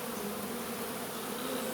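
Clusters of honeybees crawl over a hand, giving a close, constant, humming buzz from many wings that stays even throughout, with no one talking.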